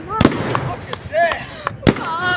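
Squiggly zigzag fireworks at Pounawea burst in a rapid series of sharp pops and crackles with whistling, wavering trails, fairly close, while excited voices talk and exclaim over the display.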